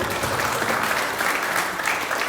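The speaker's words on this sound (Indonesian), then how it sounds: "Kita harus beri tepuk tangan gak sih untuk siswa peserta LKS SMK Negeri 1 Bangli." Audience applause for student competitors at an Indonesian vocational school skills competition at SMK Negeri 1 Bangli, a steady, dense crowd clapping that holds evenly throughout without pause.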